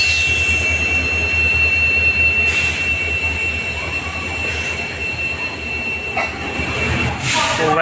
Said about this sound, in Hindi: फाइनली ट्रेन निकली सिकंदराबाद से और हैदराबाद के लिए।